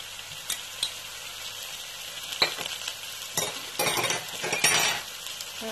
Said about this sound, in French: Je vais essayer de tout mélanger.